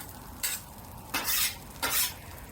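Vegetables hit a hot Vevor 36-inch propane griddle in three separate hissing bursts of sizzle, each swelling and then easing back into a low, steady frying crackle, close up with no talking.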